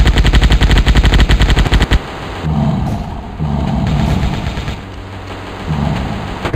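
Rapid automatic gunfire rattles loudly for two seconds in a robot car transformation mobile game, followed by heavier rumbling blasts and booming impacts that swell and fade.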